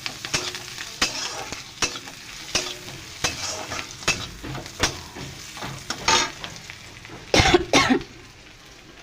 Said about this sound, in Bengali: দেখো পেঁয়াজ লাল করছি